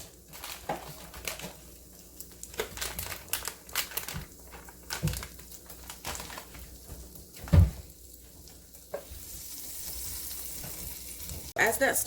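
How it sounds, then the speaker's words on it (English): Butter melting and sizzling in a pan on a stovetop burner turned to high, for Tuscan cauliflower mac and cheese: a steady low crackle with scattered utensil clicks and one sharp knock near the middle, no talking. "waiting on that butter to start melting"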